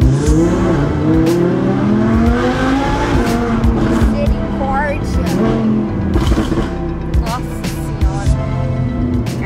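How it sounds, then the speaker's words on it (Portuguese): Audi R8 sports car accelerating hard along a straight, its engine note climbing loudly with sharp exhaust crackles, close and continuous; people talk and exclaim inside the car over it. "o estralo que esse carro dá"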